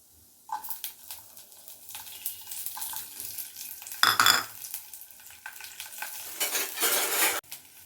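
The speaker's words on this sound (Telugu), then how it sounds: "పప్పులు బాగా వేగాయి." Chana dal, urad dal and garlic frying in a pan, an uneven sizzle with intermittent stirring scrapes and a loud spoon clatter midway, then a brief burst of stronger sizzling.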